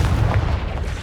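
Confringo fire spell blast in the video game Hogwarts Legacy, a loud booming burst with a rumbling low tail that sustains through the whole short moment.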